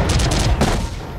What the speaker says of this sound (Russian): Тут бочки рядом взрываются.